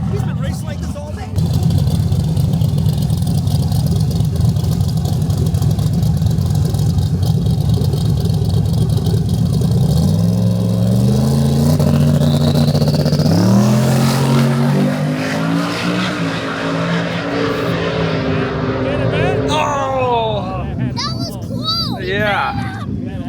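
A Honda race car engine roars close by for a long stretch, its pitch climbing through gear changes as it accelerates past, with tire noise and other engines near the end.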